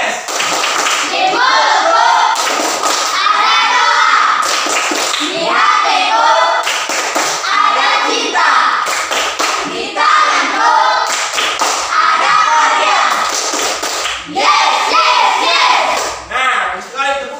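A classroom of Indonesian children perform the rhythmic "tepuk sukses" clapping chant, loud patterned claps mixed with chanted voices repeating in bursts across the whole stretch.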